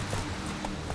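Roach, a horse in The Witcher 3, clip-clops at a steady gait, the hoofbeats close and continuous over a dense in-game background.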